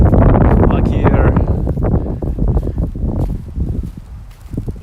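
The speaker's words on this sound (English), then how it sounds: "Yeah, it's really windy." Strong wind on a cold day in Japan buffets the microphone in loud, gusty rumbles that ease off and surge again, with rustling and faint scuffing sounds mixed in.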